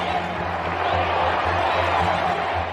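Royal wedding crowd outside the palace balcony, a steady dense roar of cheering and voices held at an even loud level throughout, with no single voice standing out.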